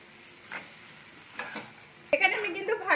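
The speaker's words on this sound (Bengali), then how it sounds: "একটু 2 মিনিটের মতো একটু ভালো করে মিশিয়ে নিচ্ছি এর সাথে" A spoon scrapes and stirs raw grated potato mixed with spices and pav bhaji masala in a hot frying pan. Close, soft sizzling is broken by scraping strokes that grow louder and busier toward the end.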